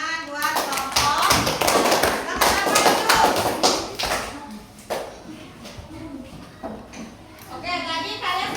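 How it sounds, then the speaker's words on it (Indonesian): Students in a classroom clap for a group: dense, rapid clapping that thins into scattered claps, with children's voices mixed in. "tepuk tangan buat kelompok"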